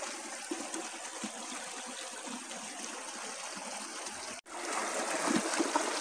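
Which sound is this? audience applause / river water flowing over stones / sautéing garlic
river water flowing over stones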